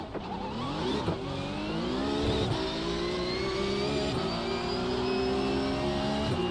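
Race car engines roar and climb in pitch as a pack accelerates off the green flag in a sim racing game, a loud, sustained rising drone with no voices over it.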